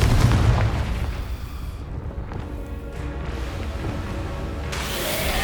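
Confringo explosive spell blasts in Hogwarts Legacy, a loud booming burst up front followed by a sustained rumbling roar and another crackling surge near the end, with no talk.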